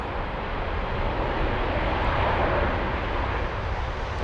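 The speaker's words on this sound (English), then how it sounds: "ITA Flight 407 on its way to Roma." An ITA Airways passenger jet, flight 407 to Rome, roars steadily at Frankfurt Airport. The engine noise is loud, broad and unbroken throughout, with no talking.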